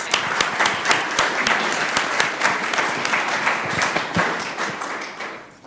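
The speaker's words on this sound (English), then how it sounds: "Let's give them another round of applause." Applause at a Columbus, Georgia city council meeting, dense steady clapping from a room of people, close and loud, fading out toward the end.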